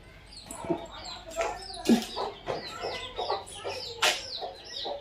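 A hen clucks repeatedly in short bursts, with high peeping calls from chicks scattered throughout, close by in a farmyard.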